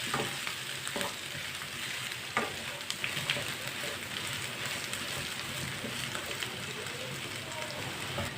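Masala for a samosa filling frying and being stirred in a pan, a steady broadband sizzle with occasional spoon scrapes, moderately close, with no voices.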